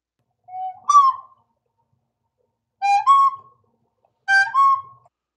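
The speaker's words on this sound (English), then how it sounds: "you may not want to whistle so loud" Three loud, clear two-note whistles at a D&D game table, each a short rising tone repeated after a pause, alone without talk.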